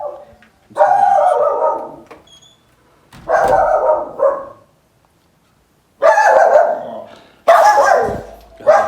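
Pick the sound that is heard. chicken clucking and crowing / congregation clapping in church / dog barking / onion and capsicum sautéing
dog barking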